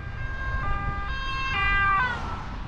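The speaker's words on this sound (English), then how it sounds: "I think the Dutch sirens sound kind of flat" A Dutch emergency vehicle siren heard from the street while cycling from Amsterdam to Edam: a two-tone wail alternating steadily at mid distance over low traffic rumble, growing slightly louder before fading.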